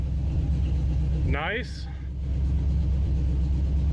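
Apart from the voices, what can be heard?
used truck engine idling after installing distributor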